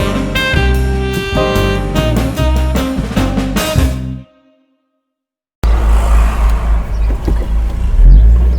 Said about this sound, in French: nous voici à nouveau au volant de cette Audi TT Roadster de 2000 avec ses 225 chevaux